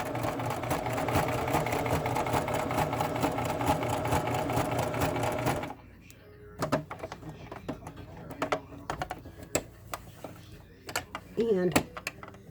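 A sewing machine stitching a cotton and lace quilt, running steadily and loudly for several seconds before stopping, followed by scattered clicks and handling noises with someone speaking.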